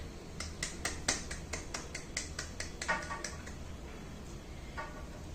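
Graduates at a university convocation applaud themselves, a quick burst of crisp, closely spaced claps that thins out to a few scattered ones before fading to quiet.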